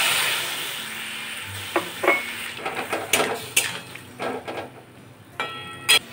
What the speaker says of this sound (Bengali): আমড়াগুলো একটু নাড়াচাড়া করে নিয়ে অল্প একটু জল দিয়ে দেব।